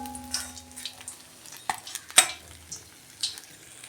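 Whole cumin seeds dropped into hot oil for tempering a bata fish curry, giving a soft, crackly sizzle with a few sharp clinks of a spoon against the pan.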